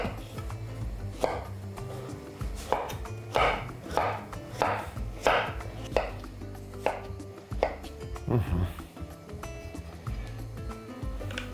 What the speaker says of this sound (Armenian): կտրատում ենք խորանարդիկների